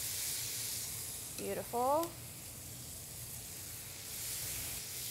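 Salmon fillet laid on a preheated stovetop grill sizzles in a steady broadband hiss throughout, with a brief spoken word partway through.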